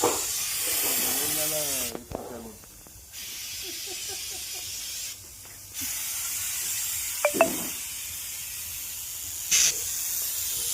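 A sprayer blasts diesel over a Kubota tractor in loud hissing bursts broken by short pauses, with a few sharp clicks; someone talks during the quieter stretches.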